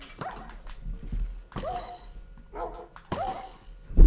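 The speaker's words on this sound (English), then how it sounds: "Stop shooting my dog." A tamed dog in Minecraft on the Xbox One edition whimpering and yelping in a few sharp bursts, close and fairly loud, with pauses between cries.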